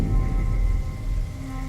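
A heavy rain storm in Bombay hisses in a dense, steady roar of rainfall, loud and close, with no voices.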